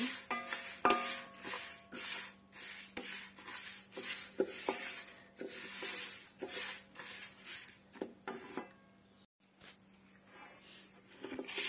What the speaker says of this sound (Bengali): এই তো ডালটা হচ্ছে ভেজে নিচ্ছি।